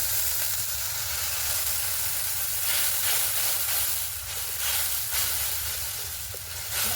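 Water hits a frying mix of turmeric and chilli powder in a village Bengal kitchen, raising a loud, continuous sizzle and steamy hiss with brief stirring scrapes, close by and without talk.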